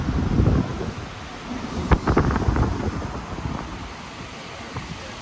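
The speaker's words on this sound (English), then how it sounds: "So little waterfalls here." Small roadside waterfalls in Norway near Trollstigen, heard through the open windows of a Tesla Model Y as a broad, steady rushing roar mixed with wind buffeting, with a few sharper bursts midway.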